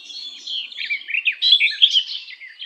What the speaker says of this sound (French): Les oiseaux nichent au bord de l'eau, chantant à l'abri du feuillage.